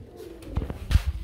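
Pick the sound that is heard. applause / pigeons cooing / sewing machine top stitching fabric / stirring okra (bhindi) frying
pigeons cooing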